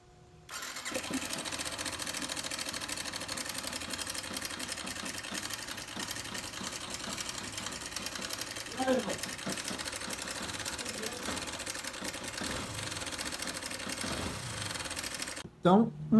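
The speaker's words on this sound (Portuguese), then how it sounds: "uma das coisas do barulho aqui, ó, já pude verificar que é a corrente de comando" Idling single-cylinder engine of a 2018 Yamaha Factor 150 motorcycle with a worn cam chain, giving a steady mechanical clatter and ticking rattle close to the mic, continuous for most of the clip before a brief louder burst at the end.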